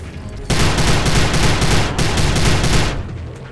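Grenade explosion in the video game Prey: a sudden loud, dense burst that rumbles and crackles for about two and a half seconds, then cuts off.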